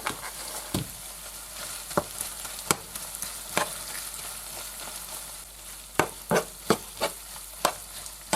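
Minced meat filling for pies fries in butter in a pan, a steady sizzle broken by sharp scraping clacks of stirring that come irregularly, then bunch together toward the end.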